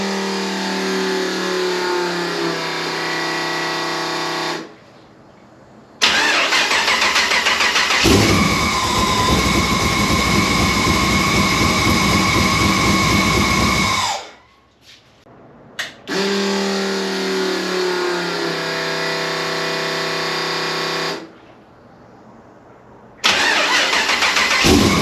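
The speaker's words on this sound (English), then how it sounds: "It's the first time starting it with a full exhaust on it." Rock bouncer off-road buggy with a full exhaust fired up several times: loud cranking catches into a rough, throaty idle and revs, separated by short silent gaps.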